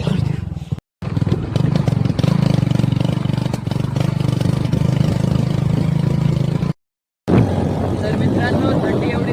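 A motorcycle engine runs on a ride to a market on a cold day, producing a loud, close, steady drone with rumbling wind noise that cuts out twice for a moment.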